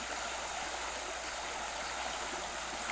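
A light stream trickles and splashes over fallen branches in a forest, a steady soft hiss of running water heard alone and at low level.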